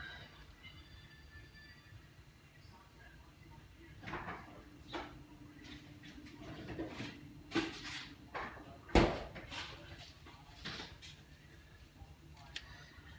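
A home freezer door or drawer being opened and rummaged through to pull out frozen turkey meatballs, with faint clunks, a sharp knock and rustling handling noises at close range, no speech.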